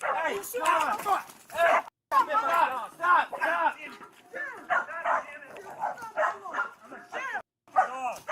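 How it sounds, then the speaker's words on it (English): Dogs bark and yip excitedly in rapid, repeated bursts with whimpering between, loud and close, briefly cutting out twice, while people talk over them. "Oh, dogs are going nuts."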